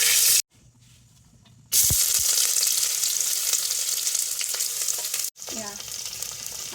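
Panch phoron spices and a bay leaf hit hot oil with a sudden loud hiss and crackle that holds steady, briefly broken by a pause before the sizzling resumes.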